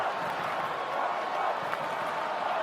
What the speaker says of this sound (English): A noisy Metricon Stadium, good crowd in